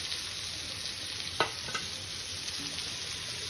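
Tomato pieces and green chilli fry in a pan with a soft steady sizzle, broken by a single sharp clink of a spatula and a few faint stirring scrapes, quiet and close.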